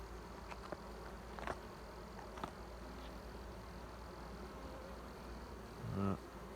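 Honeybees buzzing around an open hive in a breeding apiary during an inspection, a dense, steady hum with individual bees passing close by, plus a brief knock or handling noise near the end.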